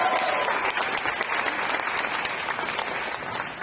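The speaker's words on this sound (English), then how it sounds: "So let's give them a big round of applause." An audience at a gun violence prevention event claps loudly and steadily, a dense wash of applause from a large crowd that fades slightly toward the end.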